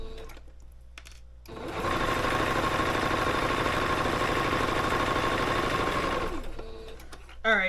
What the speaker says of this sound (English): hopefully it won't get in the way so you can also see it while I'm sewing